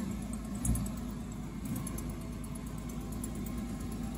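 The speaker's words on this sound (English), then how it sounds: "We have a running Porsche." A 2001 Porsche Boxster 986 under rebuild runs steadily, a continuous engine hum and rumble heard close by. There is one small bump early on and no speech.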